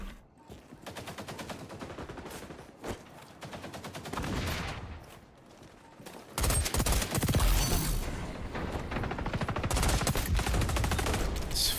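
Rapid gunfire in the online shooter XDefiant, with repeated bursts and shotgun blasts growing louder and denser partway through, set amid a chaotic multiplayer fight.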